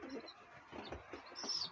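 Pigeons cooing softly, faint and somewhat distant, with a few low murmuring calls over a quiet background.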